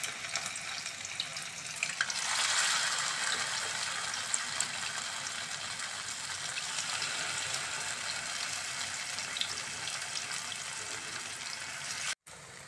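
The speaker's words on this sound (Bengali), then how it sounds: "এইবার আমি কর্নগুলোকে ছাড়বো একটা একটা করে। সব কর্নগুলো এরকম ছেড়ে দেবো," Baby corn frying in hot oil in a pan, a steady close sizzle and crackle that swells as the pieces go in and then holds evenly.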